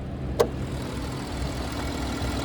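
The 1.5 liter variable compression turbocharged 3-cylinder engine of a 2025 Nissan Rogue Rock Creek idles in a steady, even low hum, with one sharp click early on.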